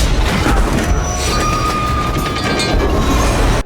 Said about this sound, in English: eventually blowing up the train, causing it to crash